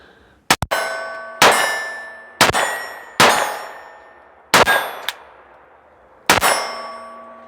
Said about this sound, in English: Let's just go 20 yards and hit some steel here